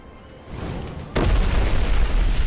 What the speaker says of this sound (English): Because he's doing the doing the impact, and then there's another explosion after.